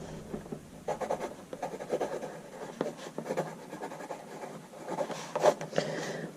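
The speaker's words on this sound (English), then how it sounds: "Writes just like a regular old pencil." A soft 2B graphite pencil scratching across paper in steady, close strokes, with short rhythmic bursts of rubbing and scraping that pause briefly between marks; no voice is heard.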